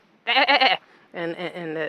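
Two loud, wavering sheep bleats close by on a farm in Ireland, the first short and sharp, the second longer and drawn out after a brief pause.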